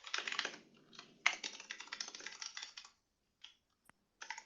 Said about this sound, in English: Sounds like somebody's typing in the background there.